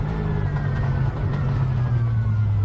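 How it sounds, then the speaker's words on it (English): Onboard V8 GT race car engine at Oschersleben in the rain, a loud, steady throaty growl that holds constant throughout with no talk over it. "I love the onboard sound from this car. Nothing quite like a V8, is there? Throaty growl."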